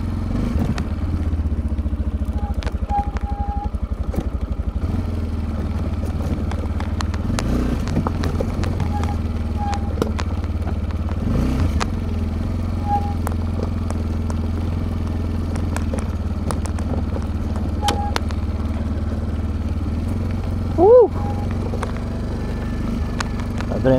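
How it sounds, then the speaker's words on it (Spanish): An Italika V200 motorcycle rides along a dirt road with a steady, droning engine note, punctuated by clattering from the rough surface and a sharp rise near the end. "Adrenalina de andar en la moto."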